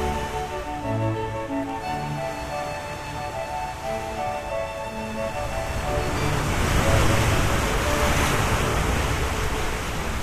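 Ocean surf on the Gold Coast near Surfers Paradise washes in as a broad, hissing roar that swells louder midway, with some wind rush and no clear talking.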